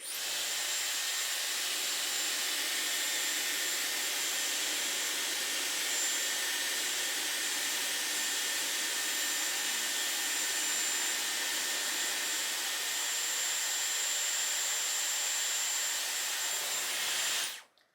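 A Dyson Airwrap hair styler blows a steady, loud airflow hiss for a long stretch while curling hair, then cuts off abruptly at the end.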